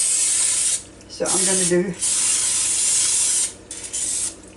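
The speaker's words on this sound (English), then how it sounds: "I'm going to just spray mine around with Pam." Pam cooking spray hissing into a muffin pan in a home kitchen, steady close bursts of aerosol spray broken by short pauses, with a brief voice speaking during one gap.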